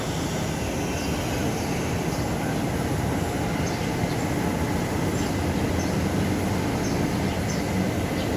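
A train rolls past in Manila at sunrise with a steady, even rumble that holds the same level from start to finish, close by and with no voices over it.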